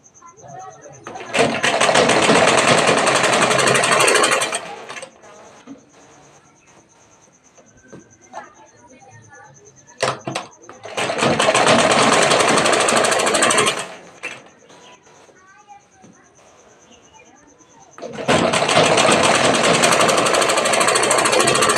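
A sewing machine stitches a blouse in three long whirring bursts, loud and close, with quieter gaps between them where a voice speaks.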